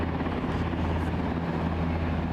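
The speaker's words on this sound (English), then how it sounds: "can you hear a helicopter over there?" A helicopter drones steadily near Aberdeen airport with a rhythmic rotor chop, sounding moderately distant and continuous throughout.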